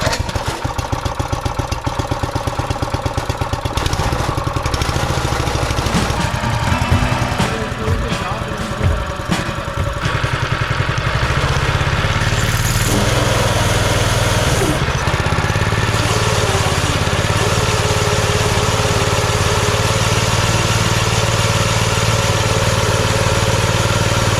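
An old race kart's small engine idles roughly, then revs up and down repeatedly in loud bursts before settling into a steady drone.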